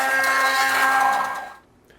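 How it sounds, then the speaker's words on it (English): An immersion blender froths a strained butter sauce with a steady, close, high whirring buzz for about a second and a half, then cuts off into quiet. "With an immersion blender, I'm going to froth it up."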